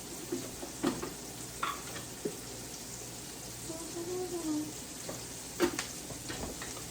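Bacon slider filling seasoned with salt and pepper cooks in a pan with a low, steady sizzle and a few soft stirring scrapes, quiet and close, with no talking.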